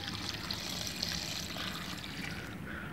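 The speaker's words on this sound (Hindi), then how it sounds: "अब हम इसमें पानी ऐड करेंगे" Water pours onto bitter gourds being washed in a bowl, a soft continuous trickle and splash at close range with no talking.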